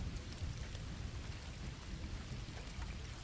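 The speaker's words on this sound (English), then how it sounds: "The rain was falling steadily that night, and the sound of the drops hitting the roof of my car" Steady rain drumming on a car roof at night, a dense, even wash of close patter that holds without pause and without any voices.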